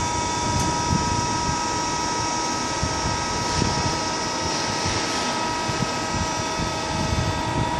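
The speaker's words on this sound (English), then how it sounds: "now we will actuate the solenoid valve for the extension stroke" Hydraulic cylinder extending in a regenerative circuit as a solenoid valve is actuated, with the electric motor and pump droning steadily at close range throughout, a constant broadband whine with a faint tonal hum.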